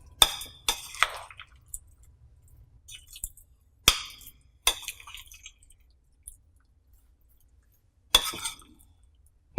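Marinated shrimp mixed by hand in a bowl with chili and pepper powder, giving a few sharp clinks against the dish and soft squishy wet sounds in separate bursts, close up with no talking.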